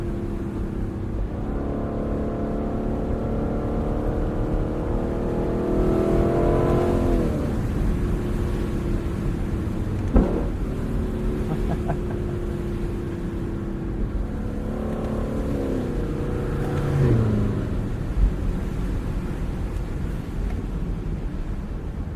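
A Lexus car engine rises and falls through repeated acceleration runs, the pitch climbing with each gear and dropping at shifts, a steady interior drone with no talk.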